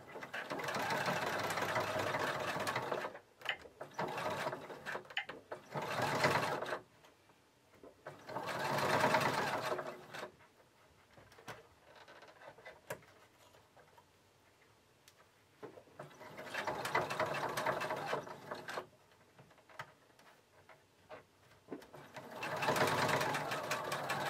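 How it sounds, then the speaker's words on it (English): A sewing machine top-stitches down the pleats of a reusable fabric face mask, running in several separate bursts of steady rapid mechanical stitching with quiet pauses between them. "I'm going to top stitch those pleats down."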